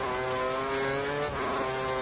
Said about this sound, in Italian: Qua la solita sgommata.